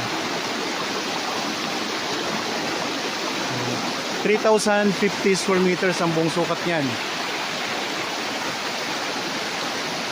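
Steady rushing water noise throughout from a river flowing nearby in Liliw, Laguna, with a brief spoken phrase partway through over the constant flow.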